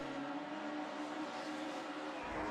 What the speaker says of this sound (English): Lights are up, engines are revving.